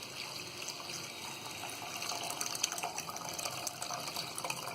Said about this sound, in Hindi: गैस हम तेज कर लेंगे और इसमें हम 3 गिलास पानी डाल देंगे